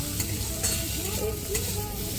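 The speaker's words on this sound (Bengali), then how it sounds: "দেখো খারকোলের ডাটাটা ভাজা হয়ে গেছে একটু রসুন আর ভাজা লঙ্কা দিয়েছি" Taro stalks fry with garlic and chili in a pan, a close, continuous sizzle and crackle with steady stirring scrapes throughout, no voices.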